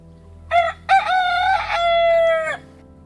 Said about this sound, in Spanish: los gallos que nos despertaban